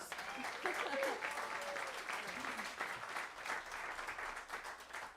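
Audience applause for a reed player at a New Orleans music show, a steady wash of many hands clapping from a moderately distant crowd, with a voice briefly heard over it.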